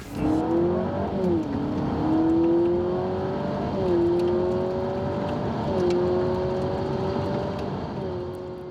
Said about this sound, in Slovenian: sliši se, kot bi avto prestavljal